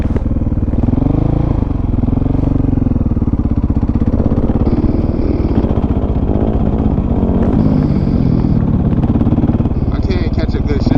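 Dirt bike engine revving steadily while being ridden, a loud continuous motor drone with shifting pitch as gears change, with a voice talking over it throughout.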